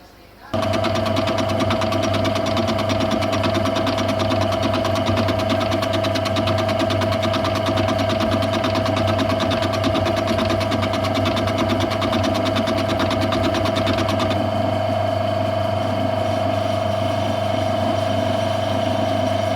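A lathe turns a spigot on a flange mounted on a stub arbor, part of building an angle grinder gearbox housing; a steady motor hum with a constant whine runs throughout, close and loud, with no talk.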